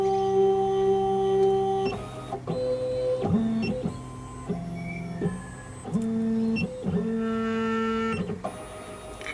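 SEC E9 key cutting machine resetting and calibrating, with steady motor whines that shift pitch in stepped stages as the carriage moves, broken by short mechanical clunks. It runs close and fairly loud throughout, with no talking.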